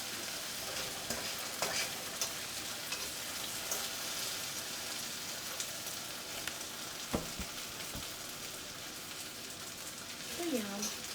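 Potatoes cook in a pan with a soft, steady sizzle and occasional stirring scrapes, fairly quiet and close, with a few faint background sounds.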